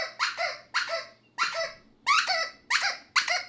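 Rubber squeak toys squeak inside a metal Airstream trailer, six loud, close, evenly spaced squeaks, each a bright two-part wheeze, with a faint hum beneath.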